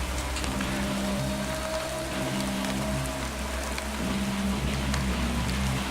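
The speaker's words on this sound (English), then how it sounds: "Rain has just started coming down." Steady rain pours down outdoors during a storm chase, a dense, constant hiss of drops on surfaces with a low rumble beneath and no talking.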